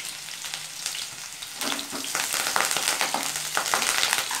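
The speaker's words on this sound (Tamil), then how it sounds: "பெரிய வெங்காயம் போட்டு கொஞ்சம் நல்லா வதக்கிக்கோங்க" Large onions frying and stirred in oil for a Tamil bitter gourd kuzhambu, a steady broadband sizzle that swells louder partway through, with scattered scraping stirs and no talk.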